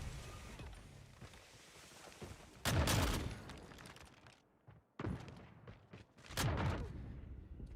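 Bursts of gunfire in the mobile shooter Call of Duty Mobile, two loud volleys a few seconds apart with quieter stretches of game noise between them and no talking.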